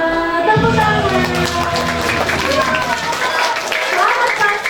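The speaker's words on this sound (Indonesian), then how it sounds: "Tepuk tangan." A congregation at an Easter church service clapping, with rhythmic applause under ongoing music and voices in a hall.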